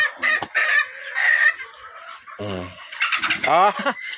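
Red junglefowl and domestic chickens, including bantams, give loud, close clucking and crowing calls in short bursts with brief pauses between them.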